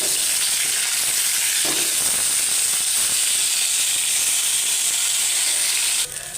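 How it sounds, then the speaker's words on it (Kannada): Steady, loud sizzling of green chillies, garlic, coriander and mint frying in a pan for a pudina chutney, a continuous close hiss that shifts slightly near the end. "ಸ್ವಲ್ಪ ಮೆಣಸಿನ್ಕಾಯಿ ಫ್ರೈ ಆಗ್ತಿದ್ದಂಗೆ ಬೆಳ್ಳುಳ್ಳಿ ಹಾಕ್ಕೊಳ್ತಾ ಇದ್ದೀನಿ"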